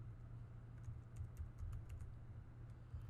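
Soft, scattered keystrokes on a computer keyboard, faint and close, tapping out a short command in a quiet room with a low steady hum underneath.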